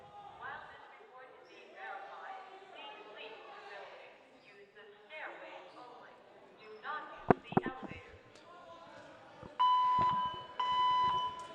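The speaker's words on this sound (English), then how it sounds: "fire alarm has went off here, so we have to vacate the building." A fire alarm sounds inside a high school gym during a boys volleyball match between Peters Township and South Fayette. Crowd chatter and a few sharp thuds come first, then a loud, steady electronic alarm tone blares in long pulses.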